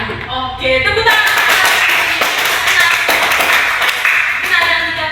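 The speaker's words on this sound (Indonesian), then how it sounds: "Oke, tepuk tangan." A classroom of pupils clapping their hands in unison during an Indonesian language lesson, a loud, steady burst of rapid claps lasting several seconds after a short spoken cue.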